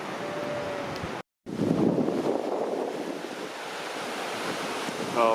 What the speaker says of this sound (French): je vais voir si je peux vraiment m'approcher de la cascade